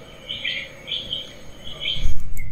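A bird-chirping sound effect plays in a Scratch project for kids, with three bright bursts of chirps in quick succession, followed by a brief low thump.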